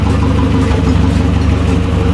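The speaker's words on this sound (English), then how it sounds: "That's all just injectors too, that noise. That's all injector noise." A rebuilt Nissan KA24E four-cylinder engine idles steadily with a fast ticking injector clatter riding over the low hum, loud and close, no talking.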